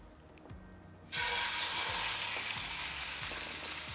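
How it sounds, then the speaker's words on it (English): After a brief quiet moment, a loud sizzle erupts as a whole chicken hits hot olive oil, then settles into steady close frying with faint thumps underneath. "when I drop it in, it's gonna sizzle and sear"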